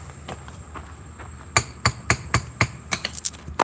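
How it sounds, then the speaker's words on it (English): A hammer taps 200-year-old bricks to level them, first faint, then a run of about a dozen crisp, close knocks in an uneven rhythm. "Just hammer it here and there."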